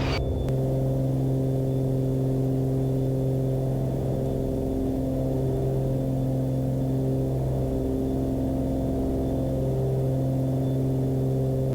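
Inside a small aircraft climbing out after takeoff, a loud, steady engine and propeller drone with strong harmonic hum runs continuously and close, and the brief mechanical thump of landing gear retracting is hard to separate from it.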